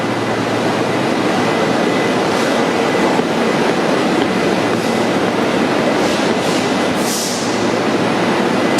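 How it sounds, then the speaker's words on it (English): A London Underground train stands at Fulham Broadway station late at night, a steady, loud rumble of motor and ventilation noise holding throughout with a faint hiss near the end, no voices. "Train's not yet fully ready to depart."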